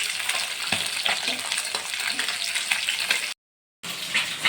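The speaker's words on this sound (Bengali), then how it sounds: "এবার উল্টে ভেজে নেবো আর এক পিঠ" Thin katla fish belly pieces frying in oil after being flipped, a close, busy sizzle with bubbling crackle and stirring scrapes, briefly cut to silence near the end before resuming.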